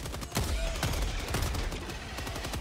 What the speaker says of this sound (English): Dude, and I love this shotgun